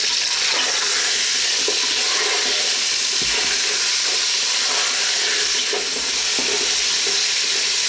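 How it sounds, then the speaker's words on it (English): Lamb meat sizzles loudly in a pan over above-medium heat, a constant hissing fry broken by occasional scrapes and knocks as the pieces are tossed and stirred. "we're just going to throw this around in the pan on above medium heat for about 5 or 6"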